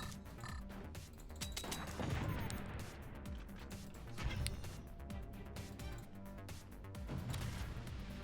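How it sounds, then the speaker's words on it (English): Swarm missiles launch in the physics strategy game Forts as a dense, steady barrage of rapid bursts, continuous and fairly quiet, with no talking heard. "Swarm missiles, there you go."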